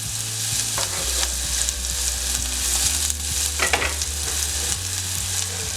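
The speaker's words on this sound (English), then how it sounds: "So we're going to add in the garlic and onion." Garlic and onion fry in a pan with a steady, close sizzle and occasional scraping stirs, with no voices.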